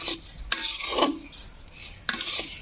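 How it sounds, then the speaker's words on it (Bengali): Gobindobhog rice fried in ghee and stirred in a pan, a few raspy scraping strokes with soft sizzling between them. "চালটা পুরো ঘি দিয়ে ভাজবে, আমিও ঘি দিয়ে ভেজে নিচ্ছি।"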